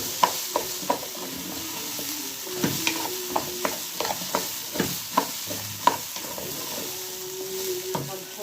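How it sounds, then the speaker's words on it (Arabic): Vegetables being sautéed together in a pot for Turkish-style lentil soup, with repeated stirring scrapes and soft sizzling, close and steady with clacking spoon hits throughout. "ان شاء الله هنشوح الخضار كله مع بعض."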